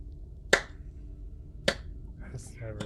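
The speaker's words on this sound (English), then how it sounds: "he just starts clapping slowly" Two slow, deliberate hand claps, close and crisp, spaced about a second apart in an otherwise quiet room, with a faint voice starting just at the end.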